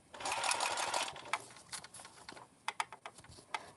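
A sewing machine runs in a quick burst of stitching around a zipper on a bag, then gives way to scattered light clicks and taps, fairly close and moderately quiet.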